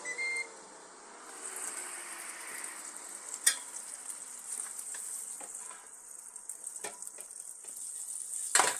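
Baby back ribs, sous vide for 24 hours, crisp under circulating hot air, giving a steady soft sizzle and fan hiss with a high whine, plus a couple of sharp clicks.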